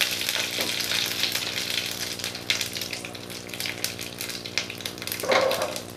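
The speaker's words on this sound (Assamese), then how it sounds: "এতিয়া ইয়াতে নৰসিংহৰ পাত কেইখিলা দি দিছোঁ আৰু লগত সৰিয়হখিনিও দি দিছোঁ মানে অকণমান সময় এনেকৈ ভাজি" Curry leaves and mustard seeds crackle and sizzle in hot oil in a pan, a dense, steady frying hiss with scattered pops, fairly close, and no voices.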